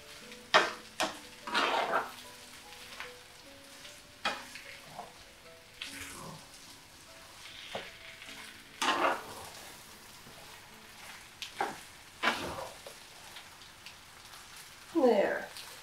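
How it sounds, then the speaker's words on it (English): Egg is stirred in a pan as it cooks, with a faint sizzle and repeated scrapes and clinks of a utensil against the pan, close by. "So just keep mixing your egg in through everything else. And keep stirring it a bit."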